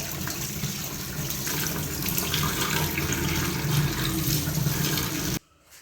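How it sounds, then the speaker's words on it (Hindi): Sliced potatoes are washed in a bowl of water in a kitchen to rinse off starch, giving a steady close sloshing and running-water wash that cuts off abruptly near the end. "पानी के साथ 2-3 दफ़ा इसको धोना है, ताकि इसका स्टार्च सारा निकल आए"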